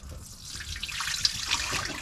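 Pink antifreeze water pours out of a container during winterization of a 2022 G23 wakeboat, a steady nearby splashing and trickling stream lasting about two seconds.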